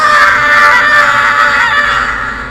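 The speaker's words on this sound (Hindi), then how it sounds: "पूरे घर में एक डरावनी औरत की चीख गूंज उठी।" A woman's terrified scream used as a horror-story effect rings out loud and shrill. The single sustained cry lasts a couple of seconds and fades slightly at the end.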